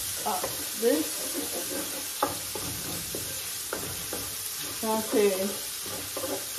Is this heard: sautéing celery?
yes